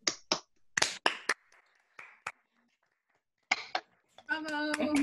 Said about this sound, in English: let's all turn our microphones on and let's give each other a clap